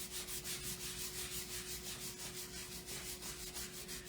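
Steady, rhythmic back-and-forth rubbing smooths a surface, about two strokes per second, close and even, with no talking.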